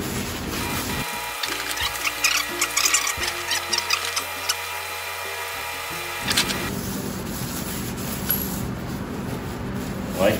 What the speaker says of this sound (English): just gonna wipe off the rims a little bit, get any of that off, any of that extra